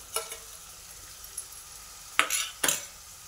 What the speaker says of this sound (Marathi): आता हे वाटण चांगलं तेल सुटेपर्यंत आपण परतून घ्यायचं 1-2 मिनिटं